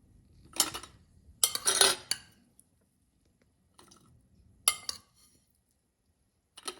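Vegetables for giardiniera pickle go into a jar through a small funnel, producing a few short bursts of glassy clinks and rattles separated by quiet pauses.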